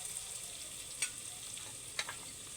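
Ground spices go into fried onion with ginger and garlic paste for a Bengali farsa fish curry, giving a faint, steady sizzle in the pan with two soft stirring clicks.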